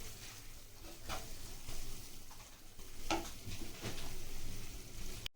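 Pepper powder being stirred into a boiled egg fry in a hot pan makes a steady low sizzle with soft scraping stir strokes throughout.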